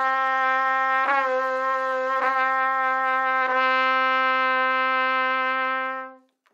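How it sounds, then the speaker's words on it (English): A trumpet holds a steady D with small lip bends, the pitch dipping briefly about three times before the long tone settles and cuts off; bright, clear and close, with no talking. "I then add lip bends to the end of the exercise"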